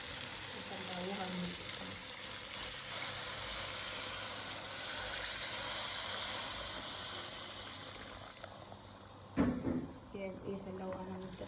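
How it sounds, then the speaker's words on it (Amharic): Boiling water gushes into a pot of rice with meat, a steady hissing pour lasting several seconds before it stops, followed by a clunk and a voice talking. "የፈላ ውሃ ነው የምንጠቀመው።"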